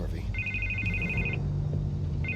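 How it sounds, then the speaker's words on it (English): A telephone rings in the Batman: The Telltale Series video game, one steady electronic trill lasting about a second before a second ring begins, set against a low, busy background of game sound and voices. "I can't get the phone to stop ringing"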